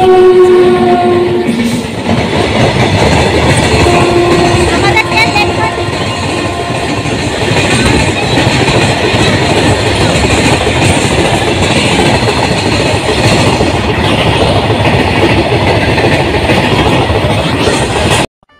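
A train rolls loudly through a railway station, its wheels clattering steadily over the rails for the whole stretch, with a horn-like tone near the start and a brief voice faintly under the din.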